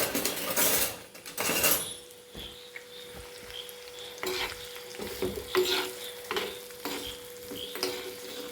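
Onions being stirred and sautéed in a pan while cooking prawn masala, with a steady sizzle of frying under repeated scraping and clinking of a utensil against the pan, close and moderately loud, with no talking.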